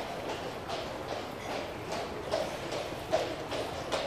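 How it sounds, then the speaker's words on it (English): Outdoors, a horse's hooves clip-clop in a steady rhythmic series of soft thuds, moderately close, over faint background noise. "look at a horse"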